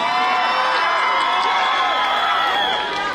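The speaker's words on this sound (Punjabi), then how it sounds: "ਜ਼ੋਰ ਦਾ ਤਾੜੀ ਪਲੀਜ਼ ਸਰ ਲਈ ਆਈ ਹੈ।" A large audience at a university film promotion event cheers and applauds, a steady, loud wash of whoops, shouts and clapping that holds throughout and fades slightly at the end.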